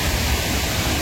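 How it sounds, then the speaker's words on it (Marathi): Roaring torrent at Thoseghar waterfall near Chalkewadi, a steady close broadband rush of falling water filling the whole second without pause. "इथनं खूप मोठा धबधबा आहे"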